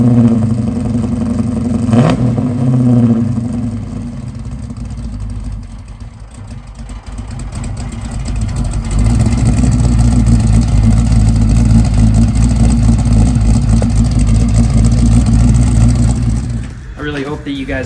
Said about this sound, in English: 30 over bore, brand new exhaust, complete engine overhaul. This thing is loud and as mean as it looks.